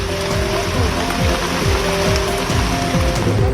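Steady rain falls in Delhi NCR, a continuous dense hiss of drops striking surfaces, with a low rhythmic mechanical hum running underneath.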